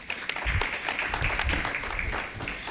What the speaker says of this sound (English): let's clap for our oral and poster presenters.